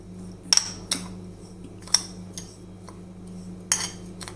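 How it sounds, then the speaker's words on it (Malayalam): A spoon clinks against a bowl while mixing grated coconut, sugar and cardamom powder, a few sparse, light metallic taps over a quiet kitchen background. "ഇത് മൂന്നും കൂടെ നമുക്കൊന്ന് മിക്സ് ചെയ്തെടുക്കാം"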